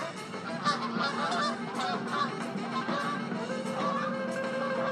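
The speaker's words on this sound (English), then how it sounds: "As the geese fly overhead." A flock of geese honks repeatedly overhead, their calls overlapping in a continuous noisy chorus at moderate distance.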